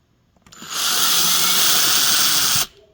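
A power drill backs screws out of a Corvette taillamp: one loud, steady high whir lasting about two seconds, close up, with quiet before and after.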